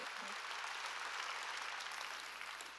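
Steady, dense applause fills a church during a sermon, with many hands clapping at an even level throughout and no speech.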